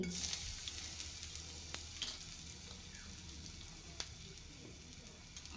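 Batter for vegetarian dhoka, seasoned with salt, turmeric, kalo jeere, sugar and hing, fries in a pan with a steady, soft sizzle and occasional small pops and crackles.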